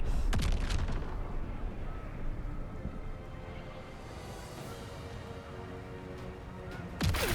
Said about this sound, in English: Right where an airstrike's going to hit.